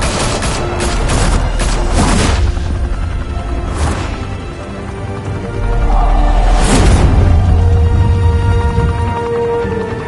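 Heavy gunfire in the Batman Telltale Series game: rapid bursts and booming shots up close, dense volleys at the start, a lull, then renewed loud firing with rumbling impacts.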